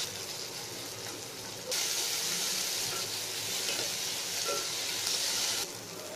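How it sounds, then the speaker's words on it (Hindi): Tomatoes frying in hot ghee for moong dal give a steady sizzling hiss that grows louder and brighter partway through, then settles back near the end, with no talking. "इसमें अब टमाटर डाल देंगे और ये अभी से इसमें बहुत ही अच्छी घी की खुशबू आ रही है।"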